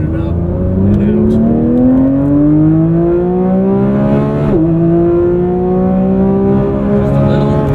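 A 2024 Porsche 911 GT3 MR engine revs hard on a straight at a driving center, its pitch climbing smoothly, dipping at a gear shift, then rising again, loud and close in the cabin.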